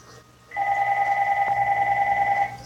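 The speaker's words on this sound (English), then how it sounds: "Sorry about the phone call here." A telephone rings during a mobile game session, a steady two-tone electronic ring that starts about half a second in and keeps pulsing in regular bursts, loud and close, over faint game sounds.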